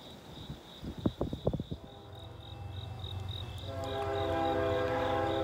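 A northbound freight train draws closer, its rumble building until a loud horn blast sounds near the end, while crickets chirp steadily and a few sharp knocks come early on.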